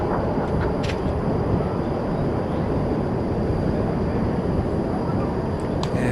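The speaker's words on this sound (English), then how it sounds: "there goes a UPS 767, flight 767 going to Louisville" A UPS Boeing 767 passes at night at DFW Airport, a steady, loud broadband jet roar that holds evenly throughout with no clear rise or fade.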